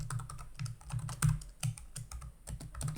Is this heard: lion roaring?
no